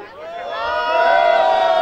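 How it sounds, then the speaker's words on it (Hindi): An audience at a medical college alumni cultural evening claps and cheers, a loud crowd roar with shouts and whistling voices that swells over under two seconds. "यहाँ पे आपको जितनी तालियां अभी और जितना शोर सुनाई दिया"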